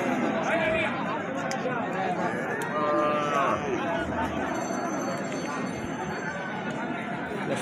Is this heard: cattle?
yes